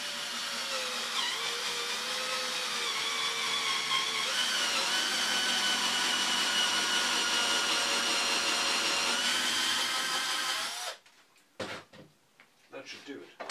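A power drill bores a small dowel hole into a laminated bow form in a workshop, a loud sustained whine with slight pitch shifts for about ten seconds before cutting off abruptly into brief handling clatter.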